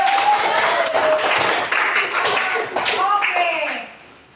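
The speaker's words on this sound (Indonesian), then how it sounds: "Tepuk tangan." A class of pupils claps their hands together, a loud, close burst of scattered clapping mixed with children's voices that fades out at the end.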